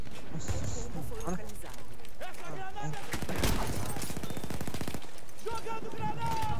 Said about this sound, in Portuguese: Um cara com a minigun em cima do prédio